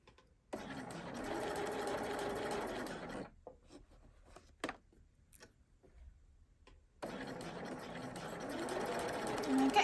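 A domestic sewing machine runs steadily while stitching a plain seam, with two long bursts of continuous motor hum and needle chatter separated by a quieter pause filled with small clicks and handling noises.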